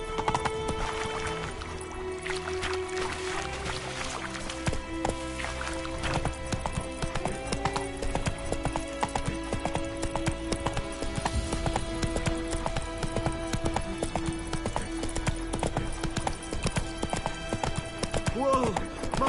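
Horse hooves clip-clop at a steady gallop while riding in The Witcher 3 video game, continuous and fairly loud over game music and tones, with a horse whinny and voices heard amid the hoofbeats.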